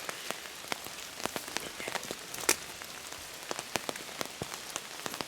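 Rain falling in the woods, a close, steady patter of drops tapping on an umbrella overhead with scattered sharper individual drips.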